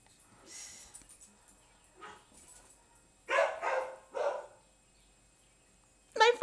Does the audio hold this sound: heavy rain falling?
no